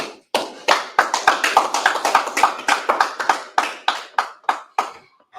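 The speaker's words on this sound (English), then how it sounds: "clap it up" A group claps hands, starting with single sharp claps and building into a quick, irregular run of close, loud claps that fades toward the end.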